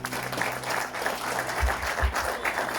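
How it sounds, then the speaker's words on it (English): Audience applause at an award ceremony as Kariba Power Station comes up to receive its awards; steady, moderately loud clapping throughout with no talk. "A round of applause, ladies and gentlemen, as Kariba Power Station comes to receive the awards."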